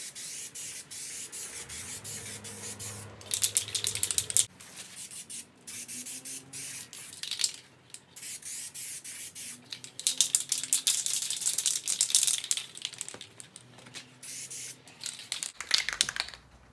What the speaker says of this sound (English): now I'm just gonna, spray it real quick